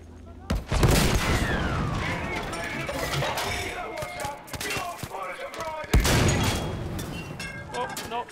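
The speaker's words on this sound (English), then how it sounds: "they're sending stuff here. They're sending bombs." Bombs and gunfire in the video game Battlefield V, with loud repeated explosions and volleys of shots crashing over a noisy battlefield, two big booming bursts standing out early and late.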